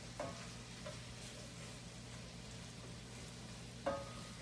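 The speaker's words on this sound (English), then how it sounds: "I'm gonna give these just a stir a little bit" Shrimp and mushrooms frying quietly in a pan for Italian shrimp pasta, a soft steady sizzle with a few sharp utensil clinks as they are stirred, one near the start and a louder one near the end.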